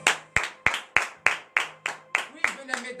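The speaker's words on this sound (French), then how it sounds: "Donnez de vives acclamations à l'Éternel." A congregation at morning prayer claps in acclamation, about ten crisp, evenly spaced claps in a steady rhythm, close and distinct, with a few voices joining near the end.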